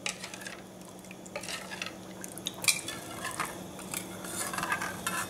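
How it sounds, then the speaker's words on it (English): A spoon stirs ginger chili gravy in a pot, giving soft scraping and clinking against the metal with a faint liquid simmer, close and steady throughout. "Okay, go on stirring again."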